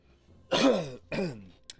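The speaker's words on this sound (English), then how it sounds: "Sorry for the coughing and the hoarse throat." A person with a hoarse throat clears it twice in quick succession, raspy and close, followed by a faint short breath; otherwise quiet.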